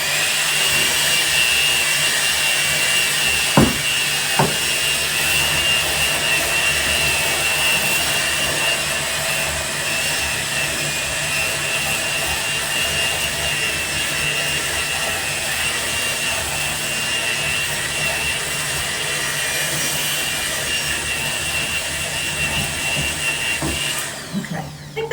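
Cream cheese and sugar for a strawberry pretzel dessert being mixed give off a steady, loud mechanical whir that holds for nearly half a minute, with a couple of brief clunks early on.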